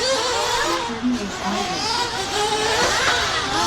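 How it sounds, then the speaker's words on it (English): An RC car races around a dirt race track, its high whining motor rising and falling steadily throughout, loud and continuous, with a voice talking underneath. "Okay, we'll track a car coming around."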